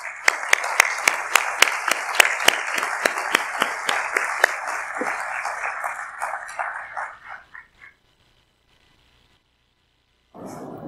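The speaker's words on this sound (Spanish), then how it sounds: "Recibamos con un cálido aplauso al doctor Óscar Serrate Cuellar" University conference audience welcoming a speaker with applause, clear individual claps in a steady rhythm for about seven seconds that fade out into silence, followed by a brief sound at the very end.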